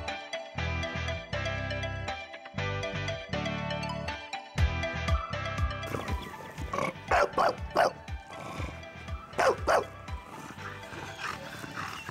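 Dogs at a breeder's home with Chow Chows and local dogs, several loud overlapping barks and growly yelps in irregular bursts, first a few deep strained howls then a rapid flurry of sharp barks nearby.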